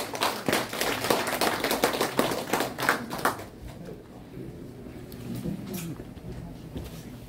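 Crowd applause welcoming an honored guest at a calligraphy exhibition opening in a gallery, a burst of clapping for about three seconds that fades, followed by quieter room noise.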